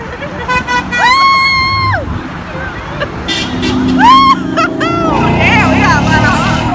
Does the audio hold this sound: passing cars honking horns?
yes